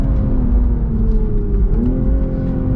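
A 2023 Toyota GR Supra 3.0 with a six-speed manual drives hard on a racetrack, its engine droning loud and close; it dips in pitch during a downshift without rev matching, then climbs again.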